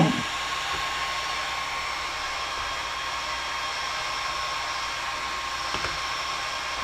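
A hair dryer blows continuously over alcohol inks on Yupo paper, a steady loud rushing hiss with faint clunks of something being handled nearby.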